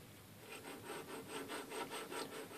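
Hand-rubbing a tool along the inside edge of a Crosman air rifle drop block gives quiet, close, rhythmic rasping strokes, about eight back-and-forth passes with no talk.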